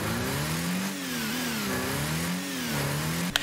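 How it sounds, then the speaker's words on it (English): A car engine in the Rocket League video game hums steadily, its pitch rising and falling in slow waves as the car speeds up and eases off, with a brief knock near the end. "The engine sound must sound different when I'm heading towards it or looking towards the ball"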